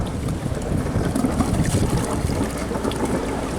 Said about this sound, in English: A bit windy suddenly, Brian.